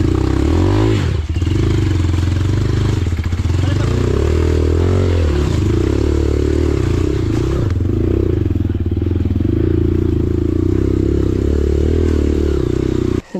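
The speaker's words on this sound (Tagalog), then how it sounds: "Ang lakas ng motor ni Erwin." Loud, close motorcycle engine revving and rumbling continuously, deep throbbing with rattling clatter, briefly easing before roaring again, with occasional faint voices in the background.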